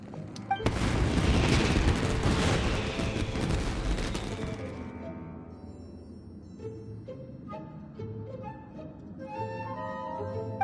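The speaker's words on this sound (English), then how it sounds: "Yoimiya, this is turning into a bit of a fireworks display." Fireworks in the game Genshin Impact burst in a loud, dense barrage of booms and crackles for about four seconds, then fade into scattered pops and sparkling crackle with bright ringing tones behind.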